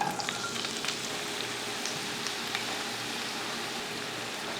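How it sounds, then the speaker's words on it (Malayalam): Sliced onion dropped into hot coconut oil for a tomato stir-fry gives a dense, even sizzle that runs steadily and close without talk. "വലിയ സവാള. അപ്പോൾ നമുക്കിതിലേക്ക് ഇടാം."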